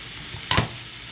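Onions, garlic and asparagus frying in a pan: an even, close sizzle throughout, broken by a single short scrape as the vegetables are stirred.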